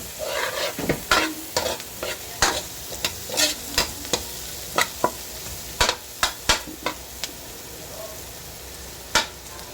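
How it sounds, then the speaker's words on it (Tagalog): Onion and garlic sautéing in a pan make a continuous close sizzle, broken by regular sharp scrapes and clinks of a stirring utensil that thin out toward the end. "Ilalagay na po natin ang ating sibuyas or onion. Ayan, gisa-gisa po natin ulit."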